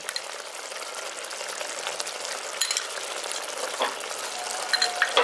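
A pan of Dahi Pabda fish curry, finished with garam masala powder and ghee, is stirred over the heat, giving a steady close sizzle and bubbling with light scraping clicks and no voices.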